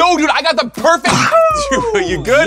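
A single short sneeze bursts out amid lively, overlapping chatter during a pancake art challenge, with people talking before and after it.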